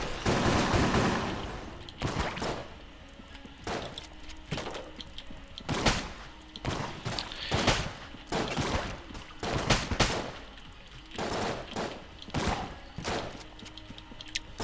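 Shotgun blasts in the video game Enter the Gungeon, a loud close series of sharp bangs arriving irregularly, roughly one to two seconds apart, over a busy background of game noise.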